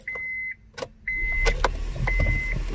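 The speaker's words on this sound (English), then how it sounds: "Okay, let me start the vehicle" A Honda Civic Hybrid starting up: repeated high warning chimes sound inside the car, then the engine catches into a low, steady idle close by.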